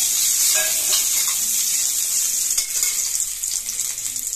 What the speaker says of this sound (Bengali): প্রথমে আমি আলুগুলোকে একটু হালকা করে ভেজে নেব